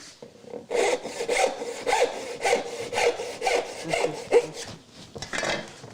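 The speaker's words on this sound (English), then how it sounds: "then we'll do one with the dovetail saw" A dovetail hand saw cuts through wood in a steady back-and-forth rhythm, about a dozen close, rasping strokes in quick succession with no talking.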